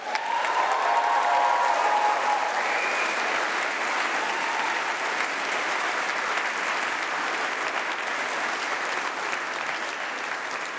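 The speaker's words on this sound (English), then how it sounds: "So let's give them a round of applause, and at your discretion," Graduation ceremony audience at a winter congregation breaking into sustained, dense applause with some cheering, loud and steady throughout before easing slightly toward the end.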